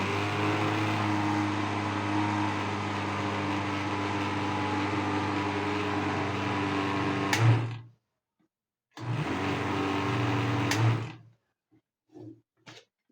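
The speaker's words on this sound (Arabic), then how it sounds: "ده الخلاط زعلان مش عايز يشتغل" Electric kitchen blender whirring with a strained, droning motor while blending cocoa for an Oreo dessert, running loud for several seconds, cutting out, then restarting briefly before stopping, followed by a few short knocks and clicks.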